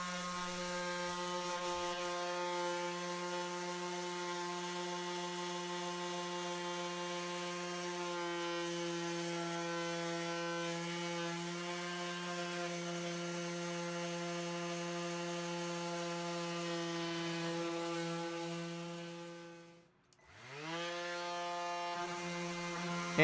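A palm sander works on wood for a woodworking project, its steady electric motor whine humming continuously with a strong tonal drone, briefly dipping as the tool slows near the end before spinning back up.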